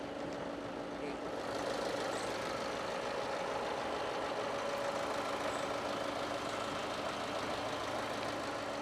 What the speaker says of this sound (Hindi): इसका इंजन की आवाज़ एक बार देख लेते हैं।